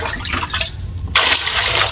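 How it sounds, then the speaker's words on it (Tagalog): Tap water pours into a cooking pot being filled to boil eggs, a steady rushing stream that grows louder and fuller partway through, with no voices. "Lagyan natin ng tubig."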